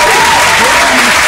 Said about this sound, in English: Round of applause for Punk Damien, bro.